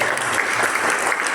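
Steady, dense applause from an audience at a staff installation ceremony in Mercure Sanur Resort, continuous clapping filling the moment with no talk over it.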